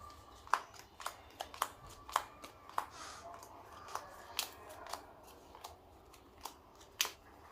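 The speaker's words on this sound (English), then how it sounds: "we'll make a simple test hand here by shuffling our deck" A deck of trading cards being shuffled by hand, giving a string of crisp, separate snaps and riffles spaced irregularly over several seconds, fairly faint and close, with no voices.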